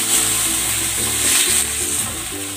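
Pork liver sizzles briefly in a pan, a steady bright crackle held at an even loudness over a low background hum, with no voices.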